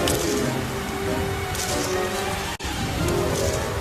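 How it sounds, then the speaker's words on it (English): Heavy rain pours down steadily, a dense continuous wash of hiss with a brief gap near the end, loud and close throughout. "A lot of rain came down."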